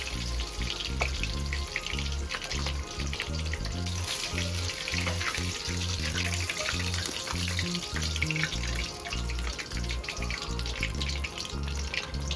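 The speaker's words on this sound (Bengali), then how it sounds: "এবার এইগুলোকে টকবক করে ফোটা ডালের মধ্যে দিয়ে দেব নরম হওয়ার জন্য।" Dal boils hard after fried rohu fish heads go into the pot, making a dense, steady bubbling and sizzling that continues without a break.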